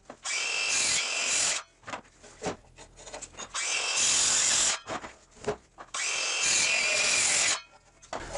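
A Makita circular saw with its bevel set to 15 degrees cuts a faceted bevel around the top of a wooden post in three loud bursts of whining blade, with quieter handling and repositioning sounds between cuts.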